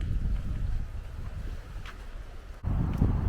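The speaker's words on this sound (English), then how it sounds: "other than the wind, you know, almost blowing my tent away" Strong wind gusting by a big lake at an Adirondack island campsite, a steady loud rushing roar that dips briefly near the end and then surges back, buffeting the microphone.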